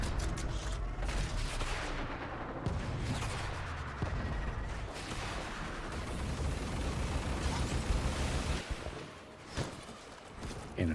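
A cannon battery is blown apart during a Warframe railjack space battle, a dense roar of explosions and gunfire rumbling continuously with sharp bursts rising near the end.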